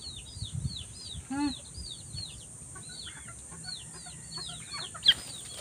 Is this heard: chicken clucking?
yes